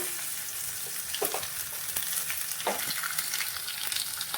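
Nigella seeds fry in hot oil with a steady, bright crackling sizzle throughout, a few stirring scrapes rising above it, close and fairly loud, with no one talking.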